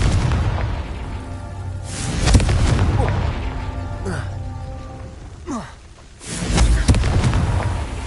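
A Confringo fire spell from the Hogwarts Legacy game bursts with loud booming blasts, two heavy explosive hits separated by rumbling crackle, with a voice shouting the spell.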